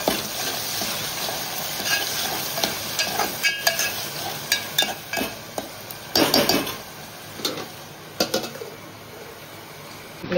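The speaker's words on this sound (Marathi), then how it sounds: "आता आपण टोमॅटो टाकूया भाजीमध्ये।" Chopped onion and tomato cook in a pan for fenugreek bhaji over low flame, a soft sizzle under repeated spoon scrapes and metallic clinks against the pan, no one speaking.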